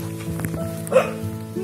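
A dog barks once, short and sharp, at moderate distance at an isolated countryside guest house in Auroville, India, with faint ambient noise and voices around it.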